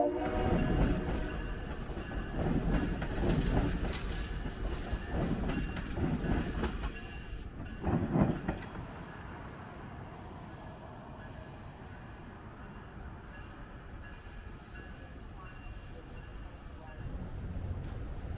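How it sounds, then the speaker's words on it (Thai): A Chicago 'L' elevated metro train rumbles past nearby in downtown Chicago with steady clattering and rolling noise, swelling briefly in the middle before settling into a continuous distant roar. "ระหว่างยืนอยู่ก็มีรถไฟผ่านมาพอดีครับ"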